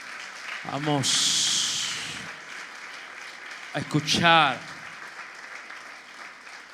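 A church congregation breaks into brisk applause for about a second after a voice, then falls quiet as he speaks again in Spanish.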